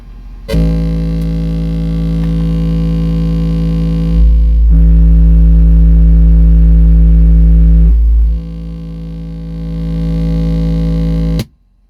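A 55 Hz bass test tone plays through two Soundstream XXX 15 subwoofers in a car audio meter test, a loud, steady low hum that swells louder in the middle stretch before easing back and cutting off abruptly.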